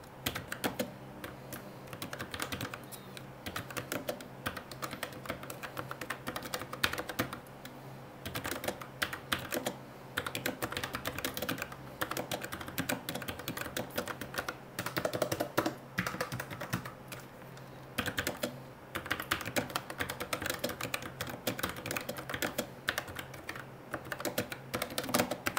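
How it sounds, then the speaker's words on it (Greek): Steady, continuous typing on a Logitech MX Keys S low-profile keyboard with brown switches, giving dull, muted key clacks in a dense, quick rhythm, recorded close with no talking. "Μ' αρέσει πάρα πολύ να ακούω τον ήχο στο πληκτρολόγιο."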